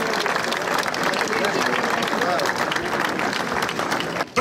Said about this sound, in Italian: L'applauso degli sportivi per i primi tre atleti classificati.